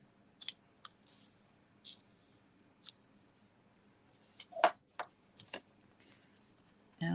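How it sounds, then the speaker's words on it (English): A handful of short, crisp snips of scissors cutting paper, spaced irregularly and fairly quiet, with no one talking. "I'm going to grab my scissors and just"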